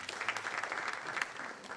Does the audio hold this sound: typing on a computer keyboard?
no